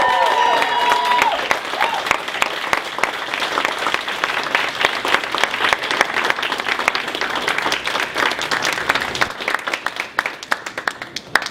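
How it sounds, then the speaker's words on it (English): A crowd at a foundation dinner applauds warmly, dense clapping sustained for several seconds before gradually thinning out, with a few voices briefly audible at the start. "Let's give them a warm applause."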